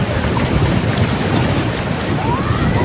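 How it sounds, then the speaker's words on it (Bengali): Sea waves surging at the Digha estuary, a continuous close wash of surf and water mixed with strong wind buffeting the microphone, steady and loud throughout with no talk. "দেখো কতখানি জল যখন একদম ছিল দেখো দেখ ঢেউগুলো দেখো"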